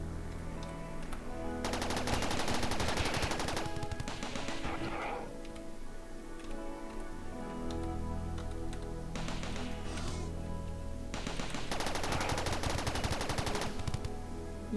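Gunfire in the colony-building video game RimWorld comes as several rapid bursts of shots, fairly quiet, separated by pauses over a low, steady background.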